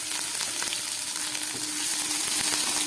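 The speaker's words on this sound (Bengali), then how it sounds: "এটাকে একটু ভেজে নিতে হবে।" Crushed garlic, grated ginger, green chili and capsicum sizzle in hot oil in a pan for a South Indian dish, a loud continuous frying hiss close up with faint stirring scrapes.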